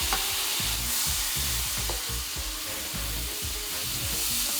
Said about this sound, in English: Let the butter melt and the alcohol cook off.